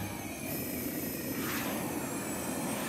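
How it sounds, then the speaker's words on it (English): Cartoon drone flying overhead in an animated comedy, a steady broadband whooshing drone with a faint swell around midway, continuous and fairly even with no talk. "It's a giant metal bird!"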